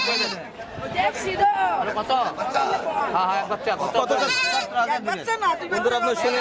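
Goats bleating at a busy rural goat market, the calls rising repeatedly through steady crowd chatter and haggling voices close by.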